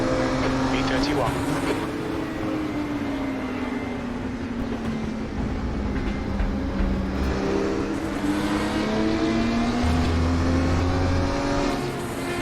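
A race car engine in a racing simulator game hums and rises steadily in pitch, heard from inside the car with road and tyre noise around it, while a voice speaks over it.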